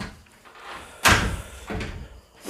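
A door slams shut with a single sharp, loud bang and a brief rattle, followed by softer knocks and faint background room noise.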